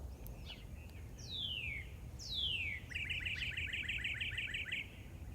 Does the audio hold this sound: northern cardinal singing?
yes